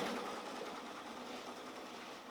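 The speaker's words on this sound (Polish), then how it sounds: "Maszyna niech sobie haftuje" An embroidery machine stitches steadily in a regional folk-costume workshop, giving a continuous, fairly quiet mechanical whir with fine rapid ticking and no pauses or voices over it.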